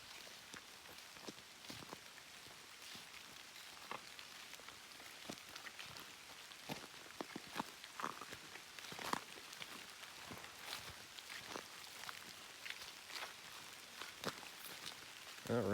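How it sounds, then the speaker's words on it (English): Rain falls in the woods during a squirrel hunt, a soft continuous patter with scattered louder drips and taps on leaves, quiet and steady throughout with no talking. "That rain's picking up."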